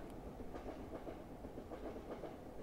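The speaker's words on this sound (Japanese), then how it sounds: "電車の音がする" A train rumbles past a station platform in a video game with a steady rolling clatter, fairly quiet and distant, no voices present.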